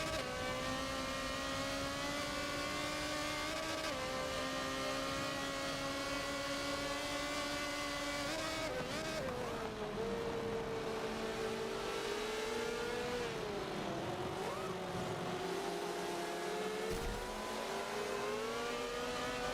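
Several racing cars in a sim racing game drive in a close pack of super saloons, their engines droning steadily with shifting revs and downshifts under braking, loud and continuous, with no talk.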